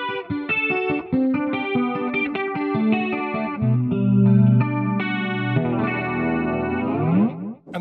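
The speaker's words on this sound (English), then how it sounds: "I turn off all my distortion pedals, I turn on a compressor and a flanger, and then I get this kind of compressed," Electric guitar with a DiMarzio PG-13 bridge pickup, played clean through a compressor and flanger with distortion off, sustained sparkly chords and picked notes ringing with a sweeping, swirling shimmer, loud and alone.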